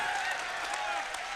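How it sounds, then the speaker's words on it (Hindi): Audience at a live Hindi poetry recital on Maharana Pratap applauding, a dense, fairly faint wash of clapping and crowd noise that holds steady for a moment. "तालियां कमजोर है, आपकी शोर भी कमजोर पड़ गया।"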